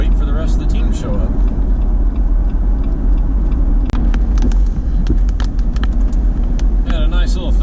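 Steady low rumble of a 4x4 rescue and recovery vehicle's engine as it pulls in to refuel, loud and close throughout with faint clicks and rattles over the drone.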